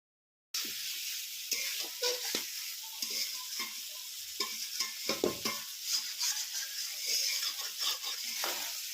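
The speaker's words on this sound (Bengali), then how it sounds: "মাংস রান্না হওয়া হচ্ছে এই যে ভাজা হয়ে গেছে" Meat frying in a pan during home cooking, with a steady sizzle broken by repeated scraping stirs and spoon clinks, close and moderately loud throughout.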